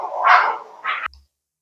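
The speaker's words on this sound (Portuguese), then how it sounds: "Os cachorros estavam brigando aqui." Dogs fighting, with a loud close snarling bark and a second shorter yelp in quick succession, ending abruptly.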